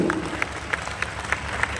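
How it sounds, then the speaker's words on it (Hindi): An audience at a Republic Day poetry recital by Imran Pratapgarhi claps together, with crisp hand claps landing in a steady rhythm over a broad wash of crowd applause. "मुझे ताली बजा करके हुक्म दीजिए कि मैं इस नज़्म को पढ़ सकूं"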